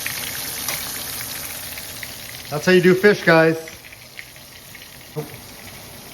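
Steady oil sizzle from a pan of shallow-frying food runs throughout, with someone briefly speaking partway through over the frying.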